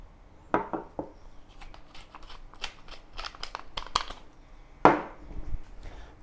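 Eggs are beaten in a bowl for an asparagus omelet. Close, irregular clinks and taps come in quick clusters, with a louder knock partway through.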